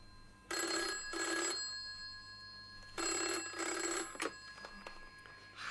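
An old-style telephone bell rings indoors in two double bursts, each pair of short metallic trills separated by a pause, fairly loud against a quiet background with a faint click afterward.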